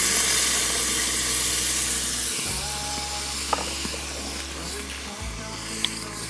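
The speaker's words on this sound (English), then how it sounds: "I'm just going to be adding in about half a tin of tomatoes. We've got a cup of stock." Tomatoes and stock poured onto seared meat in a camp pot, producing a steady hissing sizzle with a low background drone that briefly cuts out twice, plus a couple of small clinks.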